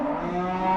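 A cow on a farm lets out a steady, loud, drawn-out moo that fills the short moment, with no talk over it.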